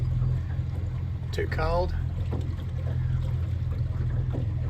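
A motorboat engine runs at about 1200 revs while pushing against a strong current on the Murray River, a steady low drone that continues under a brief spoken remark.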